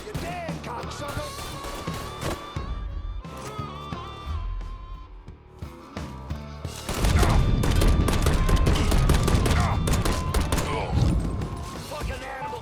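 Gunfire during a Mafia III shootout, scattered shots at first, then a dense loud barrage in the second half, with game characters shouting over the action.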